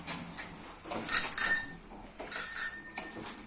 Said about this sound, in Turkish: Senin bisikletinin zili var mı? Var bak.